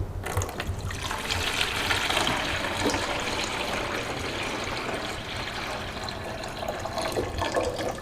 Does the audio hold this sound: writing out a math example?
no